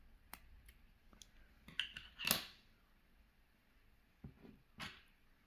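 Scissors snip through a crochet yarn end in a quiet room, one sharp close cut standing out among a few soft clicks and handling sounds.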